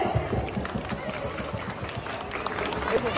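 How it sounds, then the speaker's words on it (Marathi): A crowd applauds as the leader Narayan Saheb Pawar arrives at a Women's Day 2025 event in Thane, heard as steady, moderate clapping under a speaker's voice talking. "साहेबांसाठी जोरदार टाळ्या झाल्या पाहिजे"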